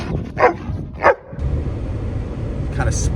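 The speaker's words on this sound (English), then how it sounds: "I added in some dog barks" Sampled dog barks dropped into a music beat, two sharp bark bursts early on over a steady thumping backing track, with a brighter chirp near the end.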